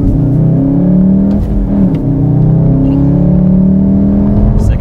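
A Volkswagen Golf R launching hard from a standstill, heard from inside as a loud, sustained engine drone that rises in pitch, with a brief shift dip and rough, uneven pull.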